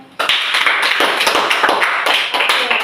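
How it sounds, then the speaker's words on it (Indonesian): A class of junior high school students bursts into applause for a group presentation, with sharp, fairly close hand claps swelling suddenly and continuing briskly and unevenly. "terima kasih kelompok 2, silakan tepuk tangan"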